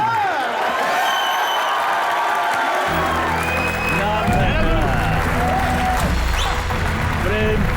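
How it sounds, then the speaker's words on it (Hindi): A studio audience on a comedy talk show breaks into loud, sustained applause with scattered cheers, while music plays over the clapping. "जोरदार तालियां।"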